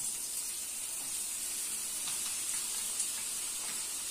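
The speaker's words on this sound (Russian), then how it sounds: "И теперь на этом масле, которое у нас ароматизировано перцами, мы будем жарить лук." Oil flavored with peppers sizzles steadily with a soft, continuous frying hiss as onions cook in a pan nearby.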